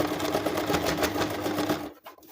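A sewing machine runs a fast, even stitching rattle through fabric for a shopping bag made from used clothing, close and loud, then stops abruptly near the end.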